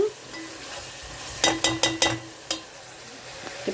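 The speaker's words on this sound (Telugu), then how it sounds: "పచ్చిరాయలు వేగినాయి కదండి" Raw prawns frying in a pan for an egg and lady finger curry: a soft, low sizzle broken by a quick run of sharp stirring clinks and scrapes against the pan, then a few more isolated taps.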